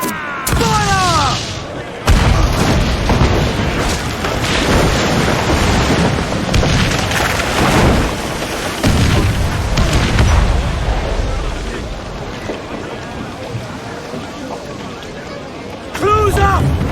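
Ship cannons boom in Assassin's Creed IV Black Flag during a naval battle, several heavy blasts spaced across the stretch amid roaring sea combat noise and shouted voices.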